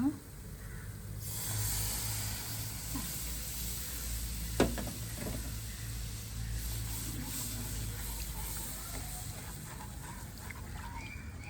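Milk poured into roasted flour in a hot pan, a steady broad sizzle and hiss that rises sharply and holds, with a brief clink partway through.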